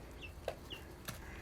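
Young chickens in a brooder, their feathers coming in, give a few soft, scattered clucks and chirps at close range over a faint background hum, with no talking.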